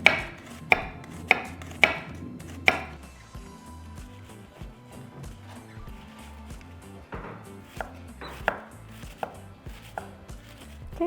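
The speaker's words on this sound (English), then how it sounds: "next we're going to chop our onion" A knife chops an onion on a cutting board, with several sharp, loud, close knocks at first, then a run of softer, irregular cuts.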